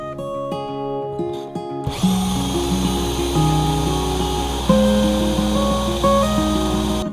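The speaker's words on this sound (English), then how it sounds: "So I've drilled that the same size as our tile bit, so it'll just act as a guide" A power drill bores a guide hole through scrap timber during a bathroom tiling job; after a short quieter lead-in the motor starts and runs as a loud, close, steady whine that continues to the end, with background music audible throughout.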